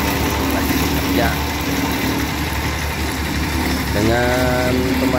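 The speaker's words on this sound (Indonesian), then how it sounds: "Bisa dilihat mesin baby roller yang lagi bekerja" Steady engine rumble of a baby roller compactor compacting hotmix asphalt outdoors, a constant mechanical drone with a brief tonal whine near the end.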